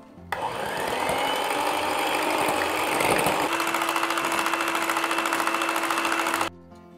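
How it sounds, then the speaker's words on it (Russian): An electric mixer whisks eggs, its motor giving a loud, steady buzzing whir for about six seconds, the pitch shifting midway before it switches off abruptly. "Взбиваем яйца."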